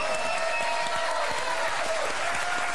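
Studio audience applause on a French comedy quiz show, loud and continuous dense clapping filling the whole short stretch.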